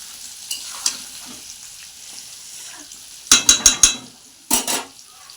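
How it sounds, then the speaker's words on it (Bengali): Potatoes and capsicum frying in hot oil in a kadai, a soft sizzle beneath a few quick clusters of metal spatula scrapes and clinks against the pan, close by. "তো দেখো বন্ধুরা আমি ক্যাপসিকাম দিয়ে আলু দিয়ে ভাজছি।"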